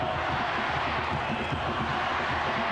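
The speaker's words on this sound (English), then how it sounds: "Crowd are really getting into it now." A football stadium crowd cheering during the 1999 U17 World Youth Championship final at North Harbour Stadium, a steady roaring wash of massed voices filling the whole stretch with no breaks.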